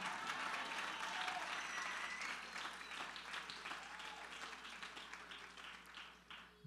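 A church congregation claps and cheers for the Lord, steady sustained applause filling the room from the start, then gradually thinning and fading toward the end.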